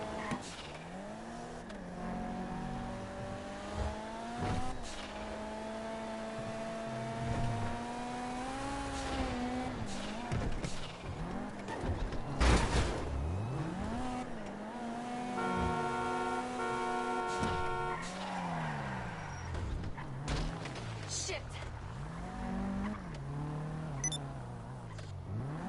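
A car in a video game drives through the streets of Los Santos toward downtown, its engine revving up and down with shifting pitch, occasional tire noise and a brief loud thump midway.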